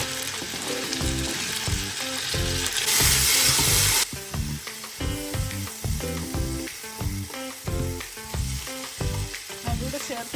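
Chopped tomatoes being stirred into a Kerala duck stew frying in a pan, with a steady sizzle under rhythmic, repeated clinks and scrapes of a spoon, plus a brief louder hiss early on.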